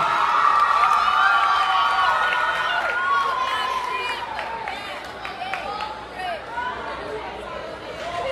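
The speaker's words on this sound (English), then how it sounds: "So give him a round of applause." Crowd cheering and chatter for a calypso and road march second runner-up, a steady hubbub of voices and clapping that stays loud throughout, with a voice raised above it.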